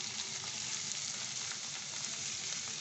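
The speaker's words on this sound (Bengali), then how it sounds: "এটা এই আলুর সাথেই আমি এটা ভাজা করে নেব" Onion, garlic and green chili frying with potatoes in a pan: a soft, even, continuous sizzle with faint stirring scrapes, fairly quiet and uninterrupted, no talking.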